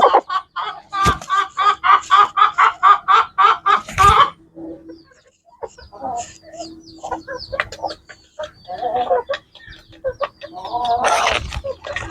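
A large rooster clucks in a quick rhythmic run of loud, close calls, then goes quiet before scattered softer clucks and squawks return.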